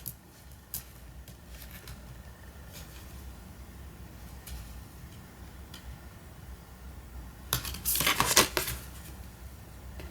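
Tarot cards being drawn and shuffled indoors, heard as faint scattered taps and light handling, then a louder rustling shuffle near the end.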